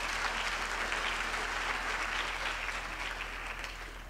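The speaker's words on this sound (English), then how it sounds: "give them a big round of applause too" Steady applause from a large graduation ceremony audience honoring the graduates' partners, a dense, even wash of clapping that holds throughout and eases slightly at the end, with no talk over it.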